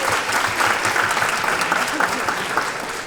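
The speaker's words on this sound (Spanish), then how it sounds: "les pido un aplauso porque es un honor tenerlo aquí en la universidad" Steady, dense applause from a university lecture audience welcoming a guest speaker to a conference on Ecuador's crisis and journalism, even and sustained throughout with no voices on top.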